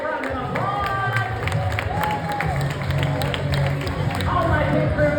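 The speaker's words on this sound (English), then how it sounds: "Round of applause." Applause and cheering from a cruise ship crowd celebrate the winner of a baby diaper-crawling race, steady clapping mixed with chatter and an announcer's voice over the noise.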